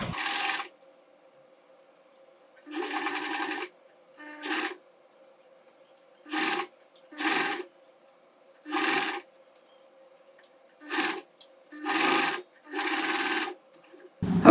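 A sewing machine stitches a box pleat in about ten separate bursts of whirring, each a second or less, with quiet pauses between as the fabric is repositioned.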